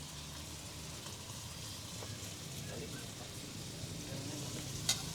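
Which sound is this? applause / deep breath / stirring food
stirring food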